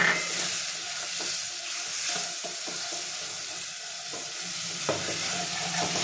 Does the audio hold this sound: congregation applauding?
no